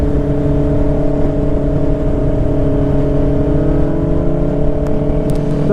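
A car engine drones loud and close, steady and continuous throughout, with a faint rising whine near the end as a vehicle drives off nearby, no talking.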